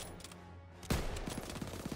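Gunfire in Call of Duty: WWII, a sudden loud burst of shots followed by a steady run of rapid, close automatic fire and scattered bangs that continue to the end.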